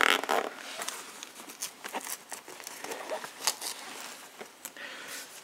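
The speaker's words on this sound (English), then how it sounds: "And we'll zip it up." A zipper pulled shut on a soft battery bag on a bike holding a current sensor, heard as a quick series of close, scratchy rasps and small crinkles over about five seconds.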